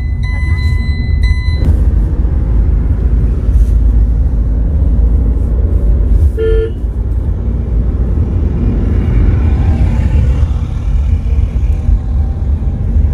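A car engine labors up a steep mountain pass in a low, heavy rumble that holds steady throughout, with clicking and brief tonal beeps near the start, a short electronic chirp midway, and a voice talking over it.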